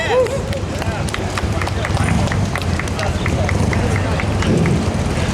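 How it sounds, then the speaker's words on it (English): An audience at a Cuba solidarity rally claps and cheers, a dense run of sharp, rhythmic hand claps over a steady murmur of crowd noise, fairly close and sustained throughout. "Can we get a round of applause for that?"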